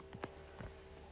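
A game alarm sounds in the Roblox horror game Shrek in the Backrooms, a few short electronic tones ringing out over a steady background hum, with no talk.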